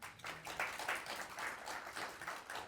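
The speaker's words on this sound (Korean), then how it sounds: "그래서 박수 한번 쳐주시면 고맙겠습니다." Audience applause honoring staff at a national heritage agency's monthly directors' meeting, a steady crowd clapping that fills the whole short stretch at moderate volume.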